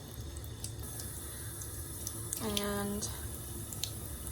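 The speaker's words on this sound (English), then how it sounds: "now I'm going to rinse my my aligners because I already had them in before" Tap water runs briefly at a bathroom sink while dental aligners are rinsed, a soft splashing stream under faint room noise with a short spoken word at the start.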